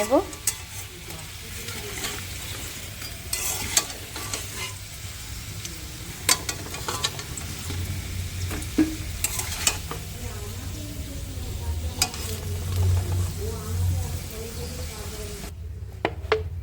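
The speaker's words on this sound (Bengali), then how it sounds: "আমি একটু নাড়া দিয়ে আর দু মিনিট ভেজে নেব আলুটা" Potatoes sizzle in a pan for an egg curry while a utensil stirs them, with a steady frying hiss and scattered sharp scraping clicks against the pan throughout, close and fairly loud.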